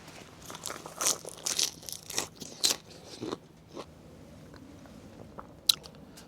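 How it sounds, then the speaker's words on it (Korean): Someone crunches and chews white kimchi with chili pepper and garlic at a winter campsite, giving a series of close, crisp bites around the first few seconds, then quieter chewing with one more sharp crunch near the end. "백김치, 고추, 마늘 딱 해서 먹겠습니다"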